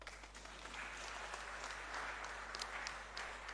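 Women in a conference audience at a New Year School gathering clap together, a dense, steady patter of many hands at moderate distance with a few sharper claps standing out.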